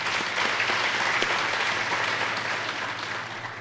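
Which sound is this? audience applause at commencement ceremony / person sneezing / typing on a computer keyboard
audience applause at commencement ceremony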